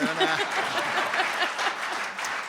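A live music radio audience claps in a dense, steady round of applause after a folk performance, with faint voices mixed in.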